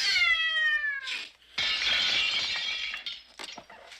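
A cat gives a clear, drawn-out meow up close, then a bright crash like breaking window glass follows as it leaps through a window in a 1981 horror film.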